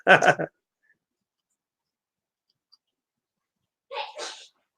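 A single sharp sneeze up close, followed after a quiet pause by a short second burst of breathy sound.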